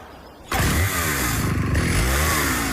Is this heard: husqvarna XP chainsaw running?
yes